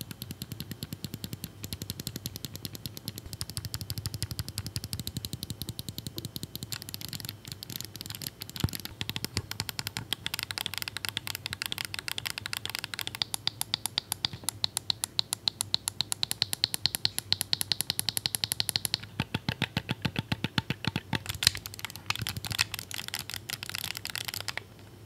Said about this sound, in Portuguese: Todos esses botões frontais aqui utilizam micro switches mecânicos que passam uma sensação tátil extremamente confortável e mais responsiva. Não só isso, mas também um som muito agradável no clique.